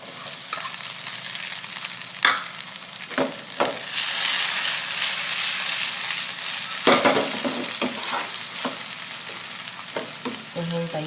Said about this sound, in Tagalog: Ilagay na natin ang ating tomatoes.